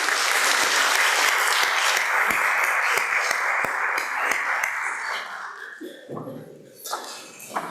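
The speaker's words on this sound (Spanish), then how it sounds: "Aplausos para él, por favor." Audience applause for a speaker at a keynote lecture on augmented reality in a Peruvian classroom: dense, steady clapping that fills most of the clip, then thins and fades, with a voice starting near the end.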